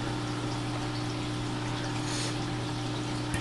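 An Aqualifter pump moving water at about 3.5 gallons an hour to clear a siphon of air, giving a steady close hum with a low drone and gurgling watery noise throughout, no talk.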